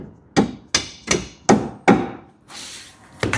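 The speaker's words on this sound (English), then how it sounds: "Hammer that right up." A dead blow hammer driving a part onto the rear axle bushes of a Ford Fiesta MK7, five sharp close strikes in a steady rhythm, a brief scrape, then one more blow.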